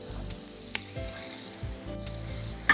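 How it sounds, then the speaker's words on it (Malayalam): Sliced onions frying in a pan for a Wayanad-style Ellu Mutti curry, a steady close sizzle with a few soft stirring scrapes and knocks. "സവാള ഉള്ളി അതുപോലെ നല്ല രീതിയിൽ നല്ല മൂത്തിട്ടുണ്ട്"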